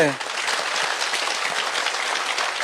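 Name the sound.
crowd applause welcoming the president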